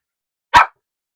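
A single sharp bark from a puppy, close and fairly loud, standing alone against silence.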